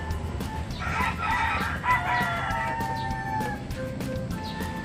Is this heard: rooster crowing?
yes